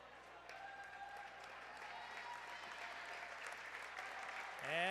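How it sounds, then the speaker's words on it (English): Crowd applause and cheering fill a high school varsity boys basketball gym, a steady sustained ovation from the stands with whistles and sneaker squeaks rising near the end. "As Finn Parmalee gets a nice ovation from the crowd."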